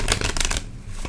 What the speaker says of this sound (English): Let's start shuffling your cards, Taurus.